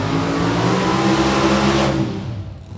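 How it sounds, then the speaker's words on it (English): A Corvette-bodied funny car's engine roars at high revs at a drag strip during qualifying, loud and sustained with steady harmonics, then easing off toward the end. "Corvette-bodied funny car with a big box shape"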